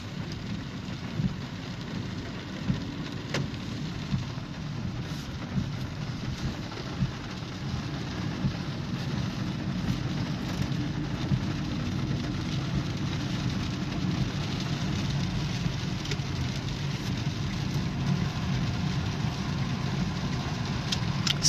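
Heavy downpour in Ryazan heard from inside a car driving through flooded streets: a constant dense roar of rain on the body with a low engine rumble underneath and occasional sharp ticks, steady and unbroken.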